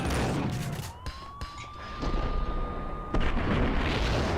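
Grenade blast in the video game Max Payne, a sharp burst with a lingering rumble, followed by a long rising, steady electronic whine and several more thumps and cracks, no speech.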